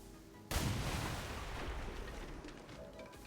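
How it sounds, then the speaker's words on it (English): A tank blown up in XCOM Long War: a single sudden, loud explosive blast that decays into a long rumbling roar, alone without talk. "And blow up that tank."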